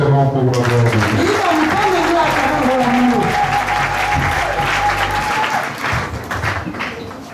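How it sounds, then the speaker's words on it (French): A church congregation applauds loudly and continuously in praise, dense clapping filling the room, with a voice speaking over it early on before the applause thins out at the end. "Acclame fortement pour la gloire de Dieu."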